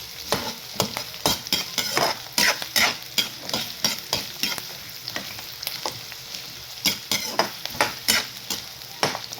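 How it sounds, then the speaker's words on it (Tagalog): Garlic and onion sautéing in a pan, stirred briskly with a utensil that makes a rhythmic run of close, sharp scraping knocks over a low continuous sizzle. "Iba-brown lang po natin yung bawang sibuyas."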